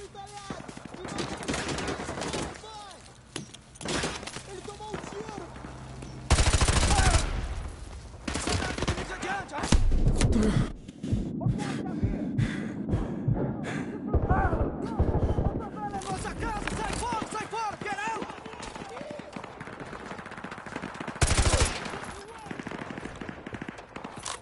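Enemy gunfire in the game Call of Duty: Modern Warfare 2 Campaign Remastered, with bursts of machine-gun fire and single shots that come and go across the fight, heard under someone talking.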